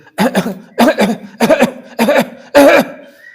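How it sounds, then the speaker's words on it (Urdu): Five short, forceful coughs in an evenly spaced series, close and loud, as if a person is deliberately demonstrating a dry cough. "یہ رومیکس کی کھانسی ہے، یہیں سے اٹھے گی۔"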